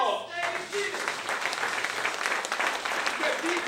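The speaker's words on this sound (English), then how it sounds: "they need a warm round of applause" A warm, full round of applause from a crowd at a Million Man March anniversary event in Baltimore, thick and continuous clapping with some voices audible underneath.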